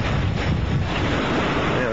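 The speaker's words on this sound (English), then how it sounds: "And there, you hear some of the gusts?" Hurricane Dean's wind gusts roar across the Yucatan Peninsula at night, a loud, steady broadband rush with surging gusts and buffeting wind noise on the microphone, surf-like and continuous for the whole stretch.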